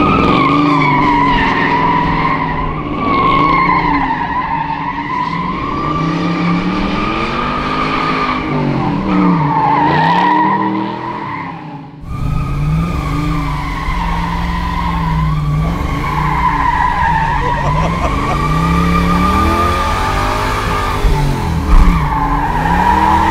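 A 1969 Camaro Z28 RS slides with loud, sustained tire squeal that warbles up and down in pitch over a roaring engine, briefly dipping near the middle before surging back even louder.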